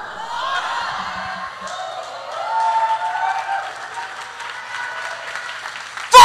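A church congregation applauds and cheers, a dense, moderately loud crowd sound that swells midway and carries a few voices, ending with a sudden loud burst.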